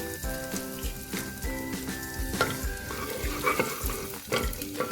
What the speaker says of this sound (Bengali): কুকারে তেলটা গরম করে নিয়েছি গরম করে নেওয়ার পরে দুটো শুকনো লঙ্কা পাঁচফোড়ন আর